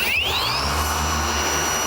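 A car polisher fitted with a fine yellow wool polishing pad runs steadily and close, a continuous motor whine that rises in pitch at the start and then holds, with no talking.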